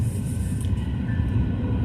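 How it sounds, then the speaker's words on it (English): A train passes through the middle of a town, a steady low rumble and drone heard from nearby outdoors that stays even throughout, with a faint higher squeal rising briefly. "So the train kind of runs through the middle of town here."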